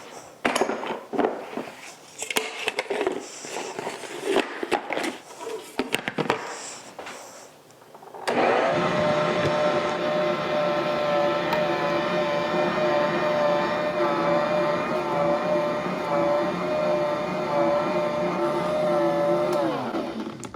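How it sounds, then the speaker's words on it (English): A stand mixer mixes English muffin dough. Clattering sounds of a bowl and utensils come first, then the motor starts abruptly and runs with a steady whirring hum that lasts to the end. No one speaks. "I'm going to stick it on my mixer and mix it up."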